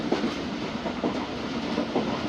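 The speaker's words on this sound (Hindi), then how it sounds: "चार बजकर 21 मिनट पर कलांच वाला रेलवे स्टेशन पास हुई है ट्रेन" The Khyber Mail passenger train runs at around 100 km/h, heard from on board as a steady rumble with a repeating clickety-clack of wheels over rail joints.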